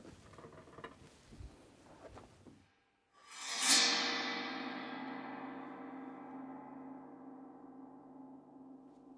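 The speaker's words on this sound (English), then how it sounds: "Sometimes a composer will ask us to scrape the tam tam with a metal beater," A tam tam scraped with a metal beater, a metallic scrape building into a loud, shimmering gong roar that slowly decays over several seconds, after some soft rustling at the start.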